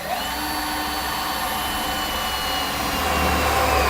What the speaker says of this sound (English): We'll drill it out.